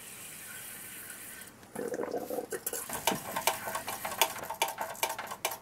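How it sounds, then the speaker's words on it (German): After a short stretch of quiet hiss, water is poured into an Aster BR 52 live steam locomotive model with splashing, trickling sounds close by, broken by small clicks and knocks. "Allererstes befüllen mit Wasser."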